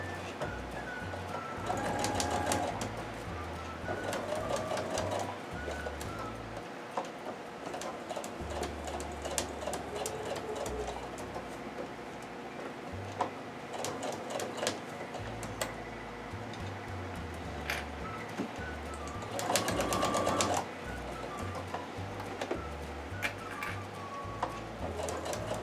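Sewing machine stitching the side of a zipper while making an insulated lunch bag, a steady fast mechanical rattle running continuously with brief changes in pace, close and alone.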